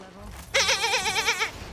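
A single loud, wavering goat bleat from a video game, lasting about a second, with quieter background noise before it.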